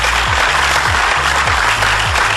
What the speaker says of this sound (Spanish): se merecen un fuerte aplauso cada uno de ustedes.